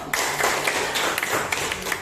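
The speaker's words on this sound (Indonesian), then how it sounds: "Tepuk tangan dulu." Students in a classroom clap together, a dense burst of many hands applauding steadily for about two seconds at close range with no talking.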